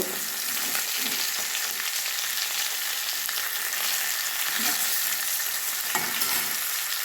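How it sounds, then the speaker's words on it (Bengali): Pieces of catla fish fry in hot oil with a continuous dense sizzle and crackle, close and steady throughout, broken by occasional soft stirring clinks. "মাছগুলো ভেজে এবার তুলে নেব।"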